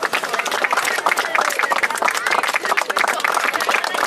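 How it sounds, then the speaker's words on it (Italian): An outdoor crowd in San Vito Lo Capo applauds an artist, a dense, lively burst of many hands clapping close and loud, with faint murmuring underneath. "Facciamo un applauso ad Alesenso, che è questa grande artista"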